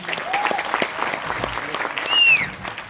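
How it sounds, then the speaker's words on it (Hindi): Applause from an audience at a motivational talk, a continuous dense patter of clapping at moderate loudness, swelling slightly near the end, with faint whistle-like tones over it. "मैं चाहता हूं महागुरु जी के लिए एक जोरदार ताली दोस्तों।"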